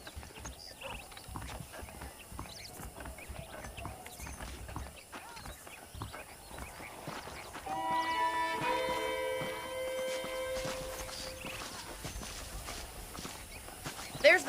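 Steady hoof clip-clops of saddled horses walking in the video game Red Dead Redemption, fairly close, with a rhythmic clatter under a busy background and some talk nearby.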